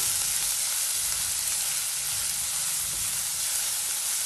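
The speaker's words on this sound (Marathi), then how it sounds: "आता कांदा घालून घेऊया।" Finely chopped onions sizzle in hot oil in a pan for a spicy dhaba-style okra curry, giving a steady, dense frying hiss throughout with no talking.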